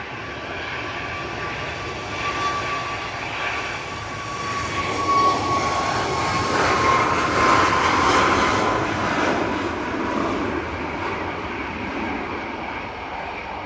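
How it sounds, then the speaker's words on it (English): An EasyJet airliner lands at Manchester Airport in windy weather, with a loud, steady jet engine roar that swells and then slowly fades, heard from a distance, with no talking. "There's that EasyJet. A little bit twitchy there."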